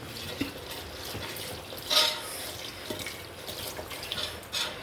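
Water splashes and trickles into a pot of thick chicken curry, with a brief louder pour in the middle and soft stirring sounds throughout.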